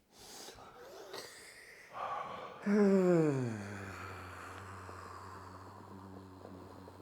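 A deep, drawn-out breath during a full body massage, starting with soft rustling before a heavy, resonant exhale or groan that swells and slowly fades, close and alone.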